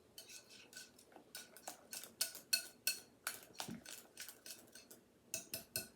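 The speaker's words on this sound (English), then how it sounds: "Just whisk it as much as you can to make sure it mixes good" Rapid, fairly close clinking taps of a whisk against a bowl while banana pudding is mixed, coming in uneven bursts with brief pauses, no talking.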